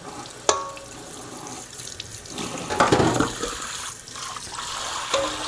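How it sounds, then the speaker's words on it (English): Butter-making containers are rinsed under a running tap. Water gushes and splashes steadily into a sink, with bumps and clatters of handling and a louder surge midway, close up. "I'm rinsing all this stuff."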